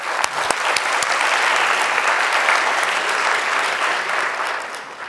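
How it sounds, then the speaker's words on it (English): Audience applause fills the room, a steady dense wash of many hands clapping at an event, sustained loud throughout before tapering slightly at the end. "So let's give each other a round of applause."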